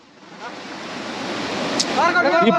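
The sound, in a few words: waterfall at Vattavada, Munnar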